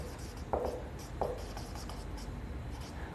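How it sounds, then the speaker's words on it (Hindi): Marker or chalk writing a heading on a classroom board during a chemistry lesson on the periodic table, two short scratchy strokes close by over quiet room tone with no talking. "तो सबसे पहले हेडिंग लिखेंगे"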